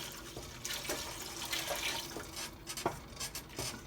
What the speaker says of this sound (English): So now I'm going to pour in the broth